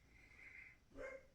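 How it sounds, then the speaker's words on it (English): Pet dogs indoors let out a faint, quick bark or yip near the end after a brief high whine, distant and soft against a quiet room. "My dogs are getting ready to bark"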